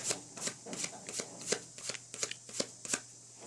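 Playing cards are handled and counted out one by one for a simple card trick, giving a steady run of about a dozen quick, soft snaps and flicks close by with no voice.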